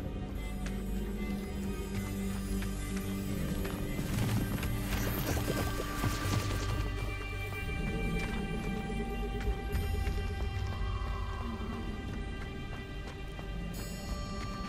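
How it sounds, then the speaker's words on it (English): Waterfall in the video game Hogwarts Legacy, a steady broadband rush of falling water filling the whole stretch at even loudness, with some faint clattering and tonal game sounds layered over it. "The waterfall."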